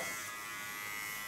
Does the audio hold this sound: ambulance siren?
no